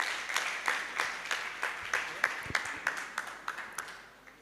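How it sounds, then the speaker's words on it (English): Scattered applause from a forum audience at a capital market youth event in Rwanda. The claps are fairly quiet and uneven, with separate hand claps standing out over a soft room background. "Let's give him a round of applause."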